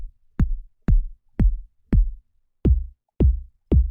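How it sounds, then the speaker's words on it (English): Seven synthesized kick drum hits made in Serum sound alone in silence, each a punchy click dropping into a booming low tail, spaced about half a second apart with a slightly longer gap midway. "A lot of different flavors of kick drum that you can get out of it."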